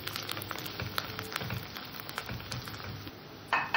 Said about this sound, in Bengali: মশলাটাকে আমি ভালো করে কষে নেব।